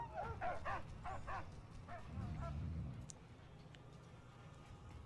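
A dog barks in the Mad Max video game, several quick yapping barks in the first second or so, then a few more, with a low rumble of game noise underneath and quieter ambience afterward.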